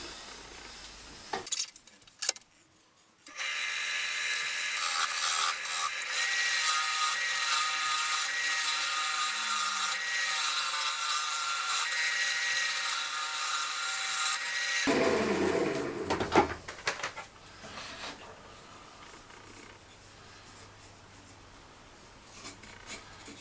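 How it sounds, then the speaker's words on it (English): Carbide cutters scrape and hiss steadily against a wooden vase spinning on a lathe, hollowing it out in one long, continuous stretch of cutting that starts and stops abruptly, with no talking. "I think now is the moment to start hollowing out with the tools and see where we get to."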